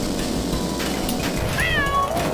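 Cat meowing in the PS1 kart racing game Crash Team Racing, a single rising-and-falling meow heard clearly over the steady hum of game sounds.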